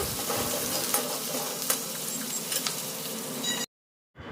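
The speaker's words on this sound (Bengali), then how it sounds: "তারপরে অ্যাড করছি কুচনো পেঁয়াজটা দিয়েও আমি একটুখানি নাড়াচাড়া করে নেব।" Chopped onion frying in a pan is stirred, producing a close, steady sizzle with rhythmic scraping strokes of the spatula, then a sudden half-second of silence before the sizzle returns. No talking.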